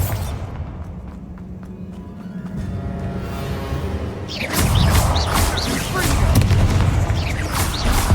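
A Bombarda explosion spell goes off in Hogwarts Legacy, a deep booming blast that bursts into a loud, sustained rumble of crumbling debris after a quieter stretch with speech.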